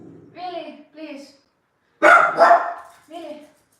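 A dog barks indoors in loud, sharp bursts, a cluster of two or three big barks in the middle, with a person talking before and after.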